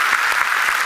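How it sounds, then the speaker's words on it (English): Dense, loud applause from a crowd, a continuous roaring wash of many hands clapping together, close and even for the whole short burst. "I've got some applause there for you"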